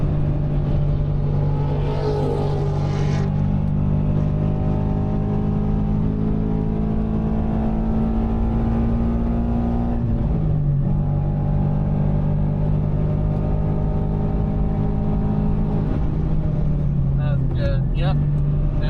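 Subaru BRZ track car engine pulling hard on an F1 circuit, a loud sustained in-cabin drone with rising and falling pitch through gear changes, and an instructor talking over it.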